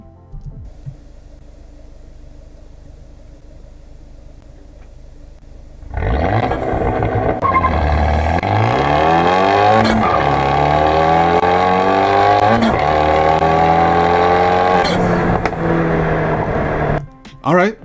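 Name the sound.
tuned Fiat 124 Spider accelerating through all gears, 0-60 mph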